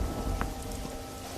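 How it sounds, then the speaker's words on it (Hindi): Steady rain pours down in a cold, unseasonal downpour, a dense continuous hiss that holds at the same level throughout with no voices. "धीरे धीरे बारिश बढ़ जाती है"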